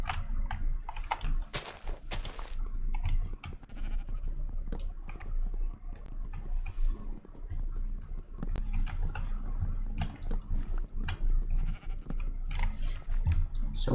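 Minecraft sheep bleat in short bursts over a steady low drone, with scattered clicks and taps from gameplay between the calls and no voices.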